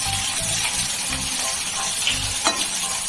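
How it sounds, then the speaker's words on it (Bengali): Fried rice sizzling and frying in a pan, a steady hiss with bursts of stirring and scraping and a small clink near the end, close and fairly loud, no talking. "ফ্রাইড রাইস ভাজা চলছে।"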